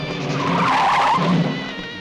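A car in a 1980 Hindi film scene skids to a stop, its tires giving a loud, drawn-out squeal that rises and fades over about two seconds.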